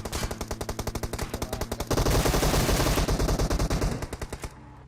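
Rapid automatic gunfire sprays in PUBG Mobile, dense bursts of close, loud shots rattling in quick succession, thickening into a sustained volley before tapering off.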